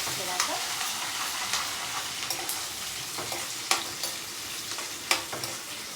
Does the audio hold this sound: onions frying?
yes